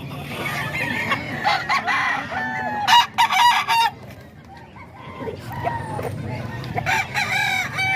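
An eight-month-old stag gamecock crows repeatedly in a backyard, its calls loud and close amid clucking and other birds, with a few sharp bangs partway through and some talk in the background.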